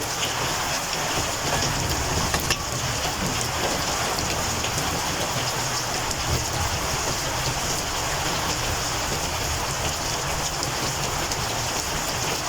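Heavy afternoon rain pours steadily and evenly, a dense hiss of drops on surfaces with no pauses throughout.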